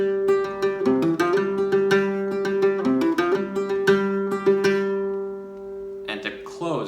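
A flamenco guitar plays a bulerías falseta phrase of quick plucked notes and strums over a ringing open bass drone, close and clear, ending in a brief strummed flourish.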